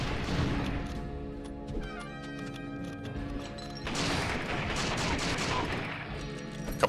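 Western-themed brawler game Secret Ponchos: dense rapid gunshots crackle in continuous bursts, with a short lull before a second heavy volley and a final sharp crack.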